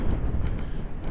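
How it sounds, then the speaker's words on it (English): Wind rumbles and buffets the microphone in a steady low roar, with no voices present. "that wind's picking up now"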